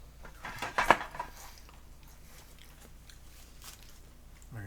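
A single crisp crunch of someone biting into a potato chip, followed by a few softer chewing sounds, close and fairly quiet, with no talking.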